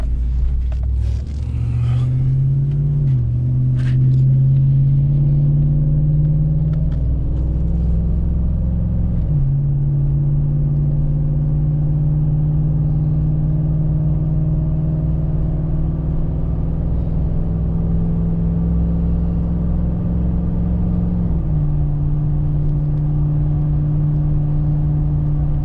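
A lifted 2013 Chevrolet Silverado crew-cab 4x4 heard from inside while driving, its engine droning steadily and loudly, pitch rising with acceleration and dropping at several gear shifts, no talking.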